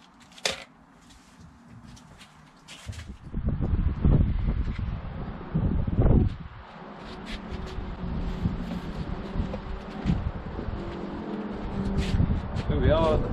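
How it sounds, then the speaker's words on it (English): Gusty wind blows around a parked motorhome outdoors, buffeting the microphone in rough, swelling bursts that rise and fall throughout, with someone talking over it at times. "It is a bit windy today, so I might have to speak up a bit."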